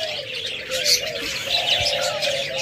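Caged doves, diamond doves and lovebirds in a bird market fill the air with steady overlapping chirps and soft cooing, bright twittering calls layered over a low continuous dove coo, fairly close and with no talk.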